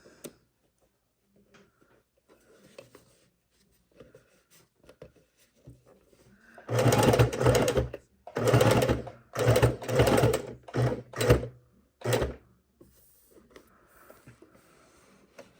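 A sewing machine stitching binding onto a quilt runs in a series of close, loud bursts of rapid mechanical stitching separated by short pauses, with no talking.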